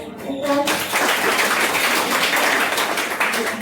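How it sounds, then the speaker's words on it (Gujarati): Audience applause at a business seminar in Gujarat, a short burst of clapping from a room full of people that swells quickly and stays steady, with a voice briefly heard at the start. "ભાઈ માટે તાળીઓ."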